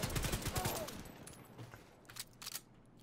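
Pistol gunfire during a firefight in The Division 2, a quick string of close sharp shots at the start, then scattered fainter pops and impacts that trail off.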